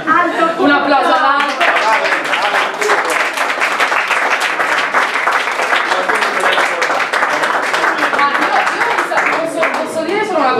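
An audience breaks into loud, sustained applause with rapid, dense clapping that carries on for about ten seconds, while voices talk over it at the start and again near the end.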